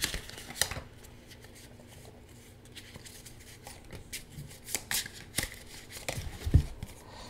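Tarot cards are shuffled by hand in quiet, irregular bursts of riffling and soft slaps, close and faint, with small clicks and rustles in between.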